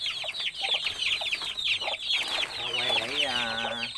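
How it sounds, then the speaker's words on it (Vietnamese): Farm chickens cluck busily while they feed on mixed feed. The calls are close, continuous and overlapping, with a quiet voice speaking briefly underneath. "coi nó ăn, mấy con gà nó ăn chơi với mọi người"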